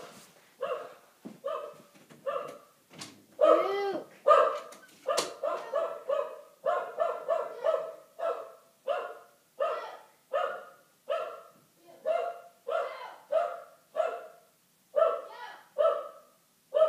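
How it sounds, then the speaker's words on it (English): A dog barks over and over in a steady run of loud, close barks, with a few yips mixed in, lasting the whole stretch. "My dog will not shut up."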